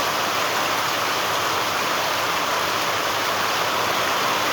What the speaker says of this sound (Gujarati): વધારે વરસાદ છે આજ